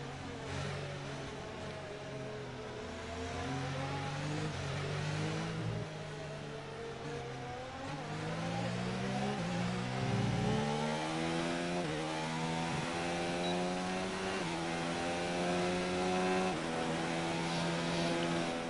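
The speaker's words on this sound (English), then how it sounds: "I'll turn down the engine" Formula 1 race car engine in the F1 2019 video game at the British Grand Prix, turned down, droning steadily with rising and falling pitch as gears shift, loud and close without talk.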